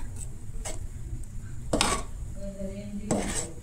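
Masala being stirred and mixed in a metal pot, with scraping clinks of a spoon against the pan recurring a few times over a steady low background, close and moderately loud.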